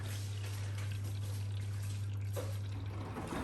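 A Blomberg RapidJET LWF194520QW 9kg 1400rpm washing machine in its final rinse, a steady low motor hum under a soft wash of sloshing, trickling water, close and continuous with no talk.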